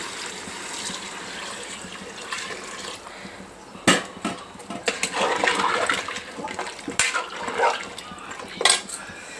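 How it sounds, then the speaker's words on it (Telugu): Heated water is poured into a pot of mutton head curry, giving gushing, splashing pours in several bursts, with a clatter of the pot between them. "ఇప్పుడు వేడి చేసుకున్న నీళ్ళు వేసుకుంటున్నా."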